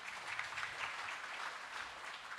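Congregation applauding during a New Year's Eve evening worship service at an HKBP Batak church in Yogyakarta; dense, steady clapping from many hands, fairly distant and soft, with no talk.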